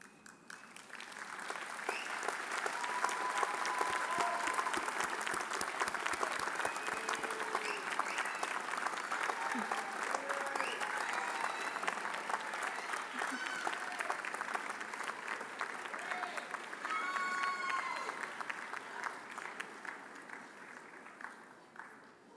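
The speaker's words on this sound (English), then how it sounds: "offer a round of applause to your supporters" Sustained, loud applause from a large audience at a university commencement ceremony fills the space for over twenty seconds, with scattered voices and cheers mixed in.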